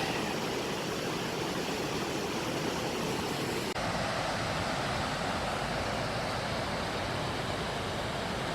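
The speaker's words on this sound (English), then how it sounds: "You can hear the force of all those white areas of waves. Just you can hear the water being mangled in there." Powerful river water on the River Towie in South Wales churns through white-water rapids in a loud, steady, close roar that fills the whole stretch without a break.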